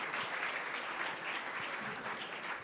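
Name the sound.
applause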